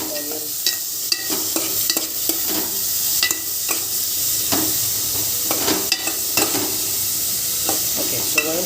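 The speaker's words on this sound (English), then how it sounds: "start stirring the onions" Onions fry in a pan for egg curry over a steady sizzle, with a spoon scraping and tapping against the pan in quick irregular strokes, close and fairly loud.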